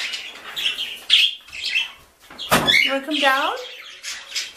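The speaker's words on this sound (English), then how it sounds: "He's a Goldies Lorikeet." A pet Goldie's lorikeet chirps and squawks in short, shrill bursts at close range, interleaved with a person speaking to it indoors.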